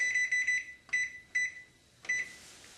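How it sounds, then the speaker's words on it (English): A kitchen timer is set for 15 minutes with a series of sharp electronic beeps: a quick cluster, then several spaced single tones, close and clear with nothing else around them. "I'll set the timer for 15 minutes"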